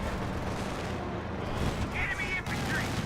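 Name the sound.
ZiS anti-tank gun firing in video game Company of Heroes 2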